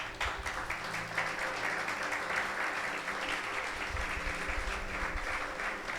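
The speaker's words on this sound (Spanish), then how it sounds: "Un aplauso al Señor, hermano." A church congregation at a Spanish-language service gives sustained, dense applause from many hands. The clapping fills the space evenly and continues for the whole stretch without letting up.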